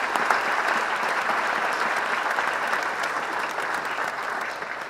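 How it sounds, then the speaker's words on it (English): Audience applause honoring Hall of Fame inductees at an evening awards ceremony, a steady, dense wash of clapping from a large crowd that holds for the whole stretch and tapers slightly toward the end. "Let's give them a round of applause again"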